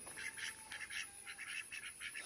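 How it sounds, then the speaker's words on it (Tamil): Ducks quacking in repeated short bursts, fairly close, over a steady outdoor hiss with no talking. "இன்றைக்கி வாத்துக்கெலாம் அப்படி அழகாக மேய்ஞ்சிட்ருக்கு"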